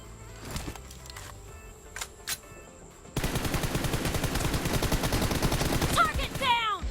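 Rapid automatic gunfire in the mobile battle-royale game PUBG Mobile, a dense loud burst of shots running continuously for several seconds after quieter game ambience and a couple of isolated pops.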